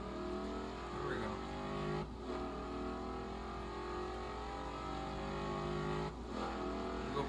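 Car engine in the racing video game Forza Horizon 2, a steady sustained drone with shifting tones and two brief dips in level, continuous and fairly loud throughout.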